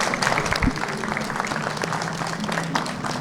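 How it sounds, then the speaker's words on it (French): Applause at an honorary career award ceremony: a short stretch of steady crowd clapping, moderately loud, with one sharp nearby bump early on and a low murmur of voices underneath. "je vous dirais de le remercier à travers des applaudissements pour sa présence ici."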